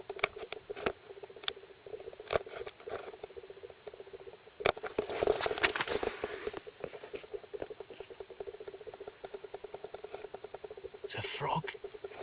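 A frog moves about inside a fishing bivvy on a carp bank, making quick pattering and rustling scratches over a steady ticking background. A whispering voice is heard in between.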